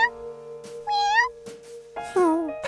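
A kitten meows in a Curious George kids' cartoon, two clear rising-falling meows about a second apart, high-pitched and close, over a soft sustained music bed.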